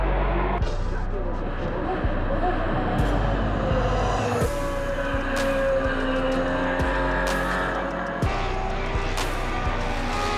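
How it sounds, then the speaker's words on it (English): Racing cars in the Spa-Classic paddock, where BMW club members' cars sit, with engines idling and revving, a tyre squeal and sharp bangs over a steady low rumble, while people talk nearby. "I propose we go and see the racing cars in the paddock now"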